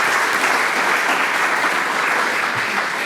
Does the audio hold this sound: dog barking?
no